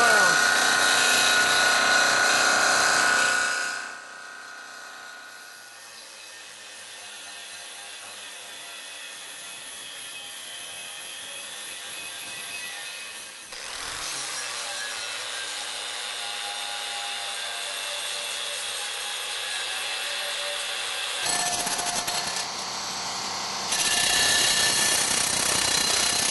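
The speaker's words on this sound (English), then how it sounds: "As you can see, this grinder doesn't mess around." An angle grinder bites into a stainless steel boat propeller during prop repair, a loud harsh whine that drops and surges as the disc presses the metal, running almost continuously with brief pauses.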